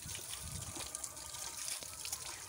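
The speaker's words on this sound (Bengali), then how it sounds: "তাই আমি ভালো করে আমটা আগে ধুয়ে নিচ্ছি সুন্দর করে।" Mangoes are washed by hand in water, a close, continuous sloshing and trickling with soft splashes and no speech.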